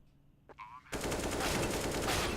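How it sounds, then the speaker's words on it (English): Rapid automatic gunfire erupts in a Counter-Strike esports playoff match, a sustained loud burst of shots fired through smoke, preceded by a brief softer sound. "Turismo firing away through the smoke"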